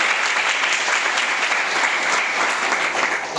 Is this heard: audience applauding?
yes